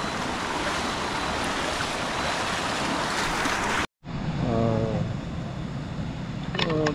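River water rushes steadily and loudly during a mountain river crossing on Mt. Irid, a dense continuous roar that briefly cuts out and resumes with faint voices under it.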